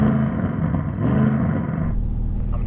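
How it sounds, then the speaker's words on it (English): An Audi RS6 engine revving up against a soft limiter around 3,000 RPM, a loud steady low drone that holds then drops back toward idle partway through. "Let's rev up the Audi RS6"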